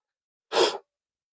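A single short, sharp sneeze, set off by a perfume spray, bursts out close and fairly loud, then falls back to silence.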